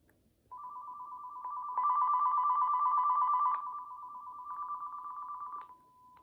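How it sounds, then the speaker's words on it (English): A Panasonic KX-TG5100M cordless phone ringtone plays a steady beeping warble, growing brighter in the middle, then ending abruptly; no voices. "Okay, so those are some very unusual ringers."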